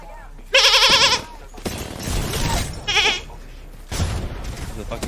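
Loud goat bleats in Apex Legends, a long wavering cry followed by a shorter second bleat, mixed with game noise and gunfire-like bursts while a player talks over the action.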